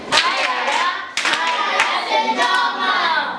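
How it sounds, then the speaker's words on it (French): Audience applause in a classroom-style gathering, a short burst of clapping hands with a brief break partway through, fairly close and lively, with young voices mixed in. "Applaudissez pour lui."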